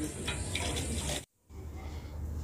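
Tap water runs steadily while something is washed, a close splashing flow that cuts off briefly and then resumes more softly.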